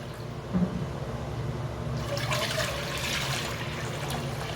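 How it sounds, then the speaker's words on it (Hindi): Three glasses of water pour into a pot on a medium flame to start sugar syrup for gulab jamun, a faint steady splashing rush that swells after the first couple of seconds over low background hiss. "उसमें हम 3 गिलास पानी ऐड करेंगे"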